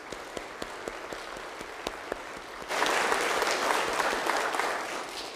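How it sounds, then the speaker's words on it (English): Church congregation bursts into loud, sustained applause for graduates at a weekend worship service, preceded by a few scattered claps before the full room joins in. "So let's give a round of applause just to support our graduates"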